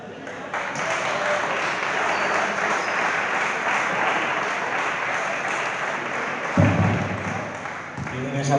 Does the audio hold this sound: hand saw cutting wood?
no